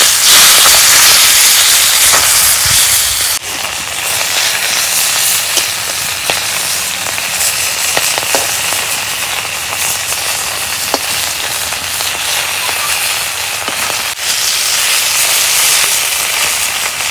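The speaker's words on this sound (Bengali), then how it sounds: "মাছ ভাজা হচ্ছে" Katla fish fry in a pan at home, giving a loud, steady sizzle and hiss of hot oil that runs continuously with occasional crackles and a few small spits.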